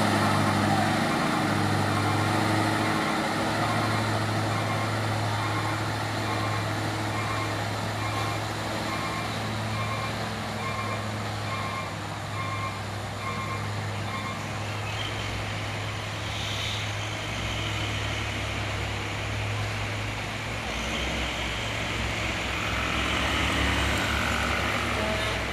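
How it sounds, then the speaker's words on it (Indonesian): A Hino trailer truck idles and rumbles on a narrow road, a steady low drone with engine tones throughout and speech in the background. "Ini satu truk trailer lagi, truk gandeng. Yang ini Hino."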